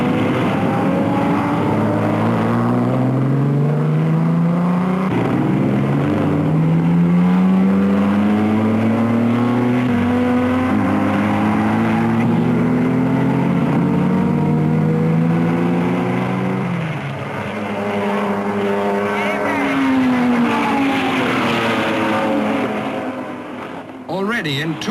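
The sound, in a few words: 2-litre race cars at Le Mans 1955 driving through corner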